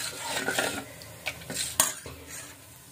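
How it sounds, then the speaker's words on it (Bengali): A spoon stirs rice flour batter for chita roti in a bowl, giving close, irregular clinks and scrapes with a few sharper knocks against the bowl, with no talk. "আর একটু পানি দিয়ে দিয়েছি, একটু ভালো করে গোলাইনি।"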